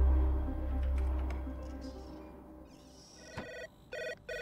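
An electronic telephone ringing inside a horror video game, with a low droning hum fading out first, then a sharp hit and bursts of repeated high ring tones near the end, fairly clear with no talking.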